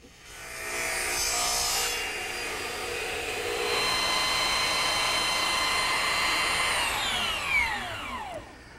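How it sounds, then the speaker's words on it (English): Sanding of turned wooden ladder-back chair parts, a steady continuous abrasive rasping hiss that carries on for several seconds, with a rising whine near the end, no talking. "Now, with any excess trimmed off the turnings, I'm now just sanding them smooth."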